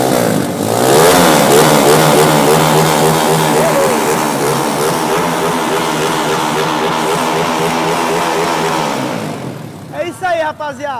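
An engine, likely a motorcycle's, starts with a kick of the pedal and revs hard and loud for several seconds, then drops back and sputters near the end.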